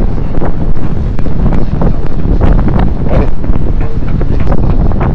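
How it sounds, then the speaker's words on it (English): Strong wind blowing outdoors on a Friday morning, roaring loudly and continuously across the microphone with heavy buffeting and no pauses. "Strong winds."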